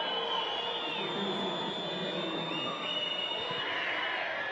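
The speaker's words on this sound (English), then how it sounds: "Crowd doing their best to put the kicker off his game" Stadium crowd at a rugby match between Brazil and Uruguay in the Americas Rugby Championship, a broad continuous roar of massed voices and whistling held at an even level while a kicker lines up his shot.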